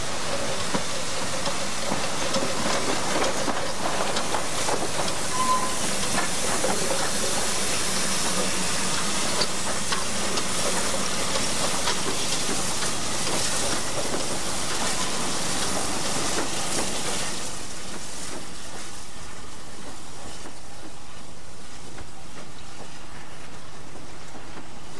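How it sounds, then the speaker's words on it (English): A steam locomotive built in 1958 in Manchester works a narrow Welsh line, giving a steady hissing, chuffing roar with faint rail clatter that carries on for some twenty seconds before easing to a quieter hiss near the end. "A wonderful locomotive, this. Built in 1958 in Manchester, and spent 40 years in South Africa."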